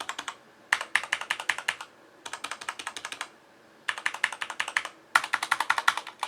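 Typing on a Corsair K70 Rapidfire mechanical keyboard fitted with O-rings: rapid, dampened key clicks in several bursts with short pauses between, close and fairly crisp, no voices.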